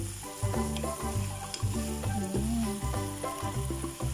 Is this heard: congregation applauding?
no